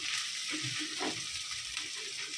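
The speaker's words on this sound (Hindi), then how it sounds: "अभी ये प्याज डाल, प्याज को लाल गुलाबी कलर होने तक इसको ये करेंगे।" Chopped onions frying in hot oil with cardamom and cloves sizzle in a pan, a steady close hiss with faint stirring scrapes and no talk.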